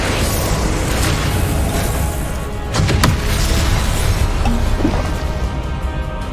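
Confringo spell explosions in the video game Hogwarts Legacy: a loud, dense wash of booming blasts and crashing debris, with sharper bursts standing out near the middle, with no speech.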